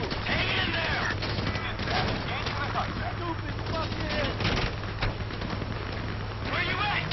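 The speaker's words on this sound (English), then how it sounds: "You hear that gunfire?" Gunfire in the video game GTA V crackles in a dense, continuous background barrage, mixed with game effects, at moderate loudness throughout.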